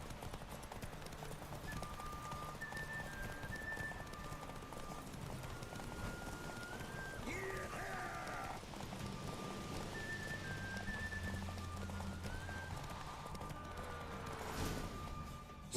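Hooves clip-clop at a steady running rhythm during a horse race in the video game The Witcher 3, set against a constant rain-like wash with faint game tones and cues layered over it.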